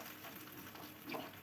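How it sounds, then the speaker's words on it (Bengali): Crushed garlic frying in hot oil for a Bengali fish-fat chachchari with eggplant and potato, a low, steady sizzle with soft stirring scrapes that swells briefly near the end. "রসুন কুচোনো দিয়ে একটু নাড়তে থাকলাম।"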